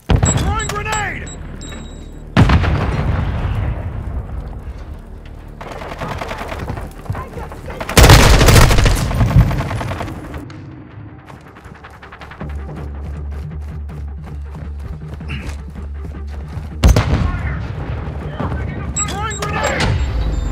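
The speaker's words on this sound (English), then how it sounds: "Throwing grenade." Call of Duty Modern Warfare 2 multiplayer combat with rapid bursts of gunfire and a heavy grenade explosion, loud and close, rattling volleys recurring throughout, over game voice callouts.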